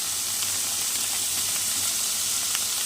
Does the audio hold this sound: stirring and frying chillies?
yes